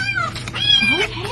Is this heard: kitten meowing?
yes